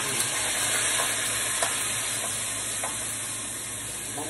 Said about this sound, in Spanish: Vamos a sofreír